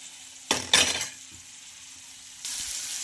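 Tomato is stirred into spices frying in a pan, producing two short, loud bursts of sizzle and spoon scraping, a quiet gap, then a steady hiss of frying resuming, with no voices.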